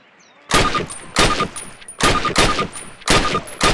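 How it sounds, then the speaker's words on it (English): Three pairs of rifle shots ring out at a target on a training range in Call of Duty (2003), loud and sharp with short pauses between each pair. "Approach the fence and fire 6 rounds at your target"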